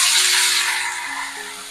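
Cut raw banana pieces drop into hot oil for a curry, giving a loud, close burst of broadband sizzling that slowly eases, with no speech.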